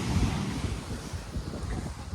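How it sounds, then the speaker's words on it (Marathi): Evening sea waves break and wash up a Goa beach, a continuous rushing surf roar mixed with wind buffeting the microphone, close and fairly loud with no voices. "इकडनं पूर्ण लाटा अंगावरती येत आहे."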